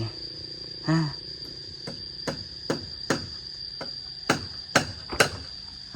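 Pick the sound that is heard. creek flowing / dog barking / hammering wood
hammering wood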